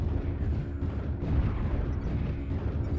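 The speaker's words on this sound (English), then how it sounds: "New target acquired. Airstrike inbound." Rumbling blasts from an airstrike in a snowy night-time frozen city shooter game roll in, heavy low-pitched booms merging into a continuous, fairly loud thundering barrage.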